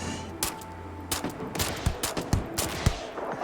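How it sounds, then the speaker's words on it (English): Sharp gunshots from a Magnum pistol in the space game Starfield crack out in an irregular burst of about a dozen loud reports over a few seconds, with no talk. "it's really fun to try and just sneak snipe everyone with this Magnum pistol"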